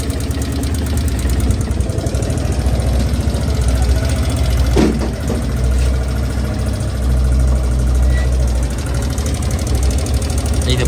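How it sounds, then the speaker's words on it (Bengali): A Suzuki Gixxer Fi ABS motorcycle engine runs steadily at idle nearby, loud and continuous with a rapid ticking, knocking pulse throughout. Workshop setting, possible cam fault. "এই যে বাইকের সাউন্ডটা দেখেন,"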